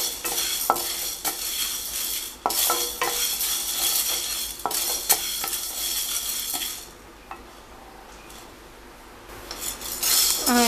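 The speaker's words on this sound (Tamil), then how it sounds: "இப்போ நம்ம ட்ரையாகவே ஃப்ரை பண்ணிக்கலாம்." Sago pearls dry roasting in a pan for semiya payasam, with repeated scraping strokes of a spoon and a light crackle that quiets partway through before the stirring picks up again.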